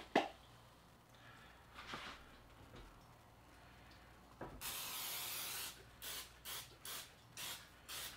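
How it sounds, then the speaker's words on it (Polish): A can of cooking oil spray is sprayed onto potatoes in a home kitchen: faint background clatter, then one long close hiss followed by four or five short sharp spurts, with no talking. "olej w sprayu trochę"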